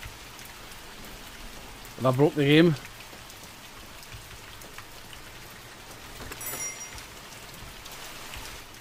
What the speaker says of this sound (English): Is it meant to be raining inside?